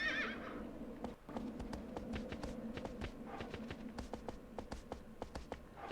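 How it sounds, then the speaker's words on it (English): A horse in the PS2 game Shadow of the Colossus gives a whinny at the start, followed by a long run of crisp, evenly spaced hoof clops, close and clear. "But then they use stock horse sound effects"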